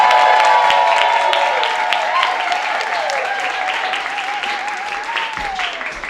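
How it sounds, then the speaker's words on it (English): An audience at a drama therapy anniversary gathering bursts into applause with some cheering and whoops over the clapping, loud at first and gradually easing off. "Please, everyone give chat RDT a round of applause."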